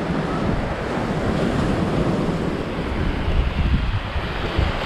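Ocean waves washing onto the shore in Tenerife, a steady loud roar of surf with wind buffeting the microphone, continuous throughout with no speech.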